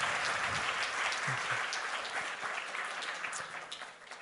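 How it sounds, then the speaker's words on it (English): An audience at a tech conference keynote breaks into a sustained round of applause, dense and steady, with many hands clapping at once and slowly easing off toward the end. "can we please give me a round of applause just for a little"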